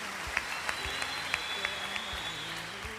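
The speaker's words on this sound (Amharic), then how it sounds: "በጣም አጨብጭቡላት።" A sustained round of audience applause at a lively gathering, an even patter of many hands at moderate distance with a few sharper claps and soft low thumps standing out, and no talk over it.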